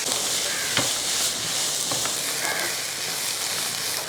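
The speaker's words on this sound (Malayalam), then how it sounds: "ഒന്ന് വഴറ്റി കൊടുക്കുക എണ്ണയ്ക്കകത്ത് നമ്മളൊന്ന് വഴറ്റി എടുത്താൽ മതി" Onions sautéing in oil in a pan for a cauliflower curry, giving a steady close sizzle and frying hiss with a few faint stirring clinks, with no talking.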